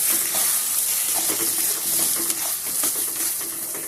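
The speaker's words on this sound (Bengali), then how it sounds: "লবণ আর চিনিটা দিয়েও আমি একটু নেড়ে চেড়ে মিশিয়ে নেব।" Peas tossed with salt and sugar in a frying pan give a steady oily sizzle, with repeated scrapes and light clinks of a spoon stirring throughout, close and with no talking.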